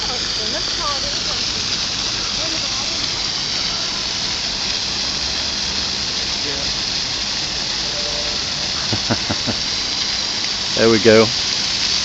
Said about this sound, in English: as we're going past, as if by magic, all the fountains are starting